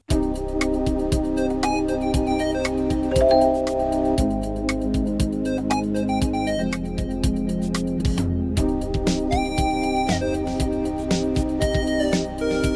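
A 90s keyboard synthesizer's built-in rhythm section plays a steady programmed beat with drums and bass under layered chords, loud and continuous throughout.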